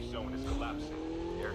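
A motorbike engine in the Call of Duty Mobile video game holds a steady, droning rev throughout, sitting moderately loud beneath a person talking.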